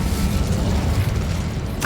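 An Incendio fire spell goes off in Hogwarts Legacy as a dense, rumbling whoosh of flame that holds steady and loud for a couple of seconds, close up and without speech.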